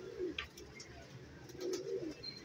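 Soft, low pigeon cooing, a few throaty coos close by against quiet background noise.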